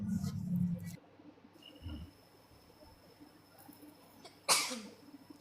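A single sharp human sneeze bursts out near the end, close and loud, following a low rumble and faint murmurs in an otherwise quiet indoor room.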